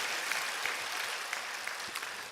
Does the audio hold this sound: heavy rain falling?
no